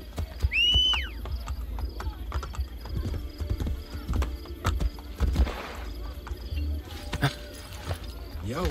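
A whistle calls a horse in Assassin's Creed Brotherhood, followed by scattered hoof clops, thuds and background game sounds while a player talks over it.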